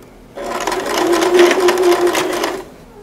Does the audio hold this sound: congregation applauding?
no